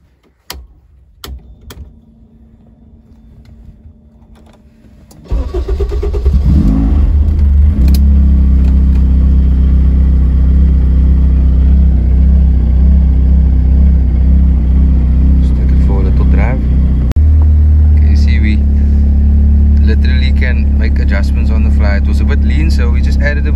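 LA Racing's Street Fighter car engine cranks after a few quiet clicks and fires into a loud, steady rumbling idle with slight hesitation, running close and continuous to the end.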